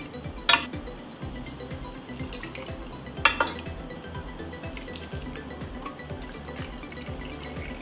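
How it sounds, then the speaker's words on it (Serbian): A metal spoon sits in a glass jar as boiling water pours in, two sharp clinks of metal on glass over a steady low bubbling, trickling pour. "Isto stavljamo kašiku da odloči toplotu i nalivamo sa proključanom vodom."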